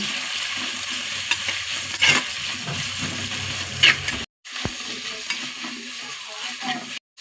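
Chopped onions fry and sizzle steadily in a pan for a Mangalore-style chicken sukka, with a spatula stirring and scraping now and then, close and continuous without talk.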